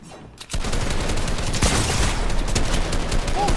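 Rapid video-game gunfire with a shotgun in the mix, a dense continuous barrage of loud close shots after a brief quieter start.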